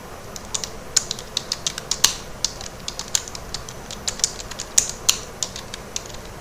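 Fingers type a question on a computer keyboard, a fairly quick, slightly uneven run of sharp key clicks heard close up over a quiet room.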